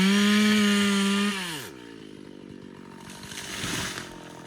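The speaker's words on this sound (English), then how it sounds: "we hired a chainsaw operator to come and harvest them." Chainsaw felling teak trees, a loud high-revving whine that drops in pitch as the blade bites into the wood, then settles into a lower bogging growl.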